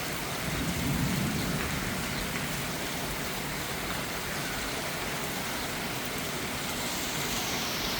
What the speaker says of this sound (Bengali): আল্লাহ তাআলার অশেষ রহমতে প্রশান্তির বৃষ্টি